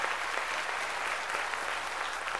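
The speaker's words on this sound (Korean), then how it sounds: "박수로 하나님께 영광 돌려야 될 거 아닙니까?" A church congregation bursts into dense, continuous applause to glorify God, a loud close wash of many hands clapping with no talk over it.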